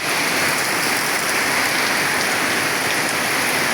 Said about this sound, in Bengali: অনেক বৃষ্টি, তুফান বৃষ্টি, তুফান